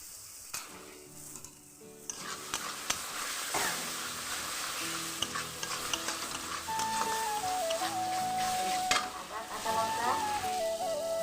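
Cumin, ginger and green chillies fry in a hot pan for kofta curry, a loud steady sizzle with occasional scrapes and clinks of a spatula, a faint whistle-like tone rising near the end.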